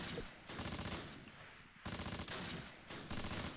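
Bursts of automatic gunfire in the Close Combat: Last Stand Arnhem wartime strategy game, three dense rattling volleys separated by short gaps, loud and close with no talk.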